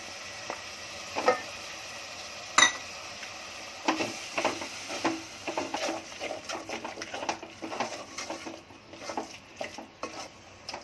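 Ground spices and tomatoes frying in a pan for masoor pulao, a soft steady sizzle under repeated scraping and stirring clatter from a spoon against the pan, growing busier toward the end.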